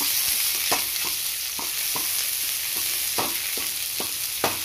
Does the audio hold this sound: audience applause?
no